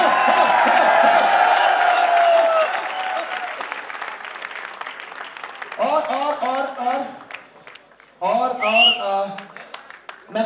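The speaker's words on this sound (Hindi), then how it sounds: "किंगों के किंग, जोरदार तालियां।" An audience at a leaders' celebration breaks into loud applause and cheering, a dense wash of clapping that fades after a few seconds, followed by rhythmic chanted shouts from the crowd over a microphone.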